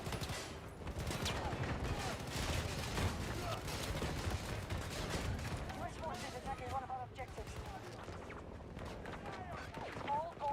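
Rapid video-game gunfire crackles almost nonstop in bursts, mixed with running footsteps and other game effects, while players talk over it.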